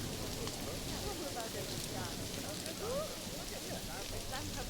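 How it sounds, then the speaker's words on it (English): Steady, hissing rainfall in the zoo-building game Planet Zoo, a dense, even wash with scattered faint chirping calls mixed in throughout. "I'm going to wait until this rain passes over."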